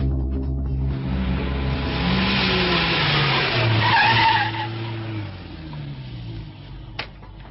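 Radio drama effect of a gray Lincoln car: an engine revs and tires skid with a long squeal, building loudly before the car settles into a lower hum, with one sharp click near the end.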